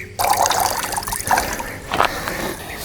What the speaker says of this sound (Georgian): დავასხავ სასმელ წყალს და დავდგებ